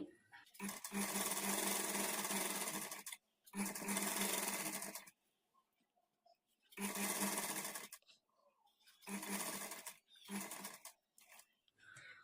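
A sewing machine stitches a blouse sleeve in loud bursts of rapid whirring, five runs of a few seconds each separated by quiet pauses.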